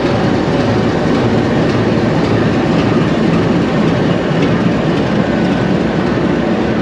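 A Pakistan Railways Green Line train with a decorated diesel locomotive from the Rawalpindi shed gives a loud, steady broadband rumble and rush of rolling stock, close and unbroken throughout, with no voices.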